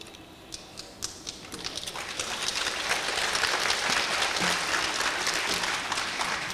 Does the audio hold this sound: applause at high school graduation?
yes